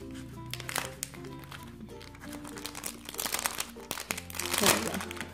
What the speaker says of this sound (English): Let me see if I can pull out the die cuts.